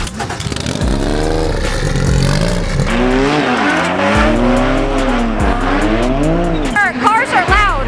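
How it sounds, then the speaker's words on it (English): Drift cars run tandem at night, tires squealing in long wavering shrieks over loud engine roar and revving, close and continuous, with voices shouting along during the run. "Cars are loud."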